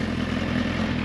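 A 2014 Suzuki Hayabusa motorcycle with a full exhaust system runs steadily with a loud, rumbling engine drone over about a second, and no voices are heard.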